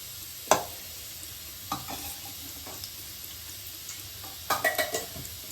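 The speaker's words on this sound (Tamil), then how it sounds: "கடாய் காஞ்சிச்சு, எண்ணெய் ஊற்றிக்கலாம்." Oil poured into a hot kadai, giving a faint background sizzle punctuated by a sharp clink and several light metallic taps and scrapes, with a quick cluster of clatters near the end.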